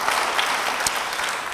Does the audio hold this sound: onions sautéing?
no